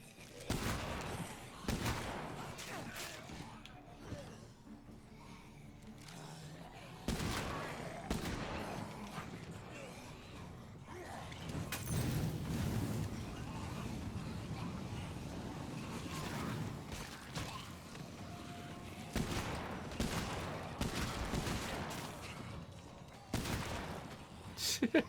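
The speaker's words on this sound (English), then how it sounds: "I keep attracting more zombies while firing this shotgun." Repeated shotgun blasts against zombies in a video game come as sharp, loud reports spread at irregular intervals, mixed with mechanical clacks and creaks of reloading, while a voice talks over the action throughout.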